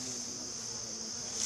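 Honey bees buzz in a steady, fairly soft hum during a honey harvest, with no voices, lasting a brief moment.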